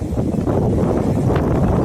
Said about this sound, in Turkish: Rüzgar var kusura bakmayın